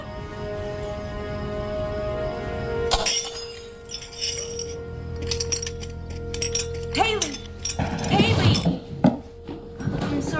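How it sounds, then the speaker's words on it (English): A drinking glass knocked over indoors shatters with a sharp crash followed by scattered tinkling shards, after a quieter stretch with faint talk. "I knocked over my glass."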